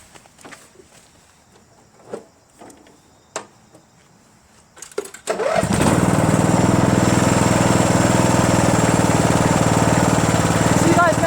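A Craftsman LT1000 lawn tractor engine cranks and catches after a few scattered knocks and bumps, then settles into a loud, steady, close running drone that carries to the end.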